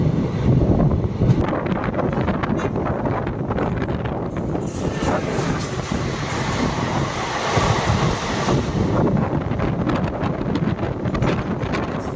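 The Guruvayur Express rumbles past close by near Nagercoil, a continuous heavy roar of wheels and carriages mixed with gusting wind noise against the microphone.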